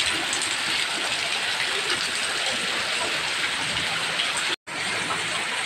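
Heavy rain pours with strong wind in a constant dense hiss on surfaces, loud and unbroken apart from a momentary dropout near the end.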